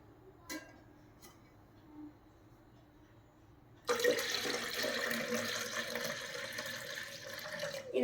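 Water pouring into a glass of rose milk, starting abruptly after a few quiet seconds with a couple of small clinks, then a steady, fairly close splashing stream that continues to the end.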